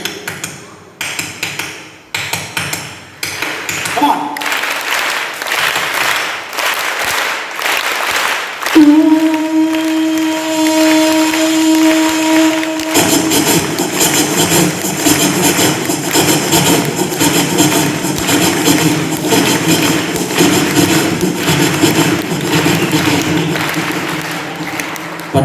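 A group claps in unison at a school farewell function, imitating the rhythm of a train. The claps form a dense, loud, driving patter that builds and runs on steadily, with a brief sustained tone partway through.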